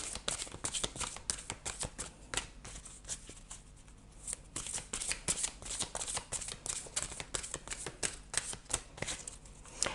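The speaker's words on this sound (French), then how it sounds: "je vais tirer une dernière carte, un dernier conseil pour vous" Tarot cards being shuffled close up, a dense run of rapid papery riffles and flicks that carries on for the whole ten seconds with only a brief pause.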